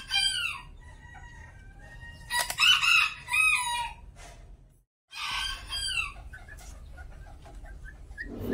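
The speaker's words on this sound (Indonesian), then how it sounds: "kami memelihara atau beternak ayam jenis kate dan cabo ini" Kate and chabo bantam chickens on a farm cluck and crow nearby, with several short calls, a brief quiet gap, then more clucking over steady background noise.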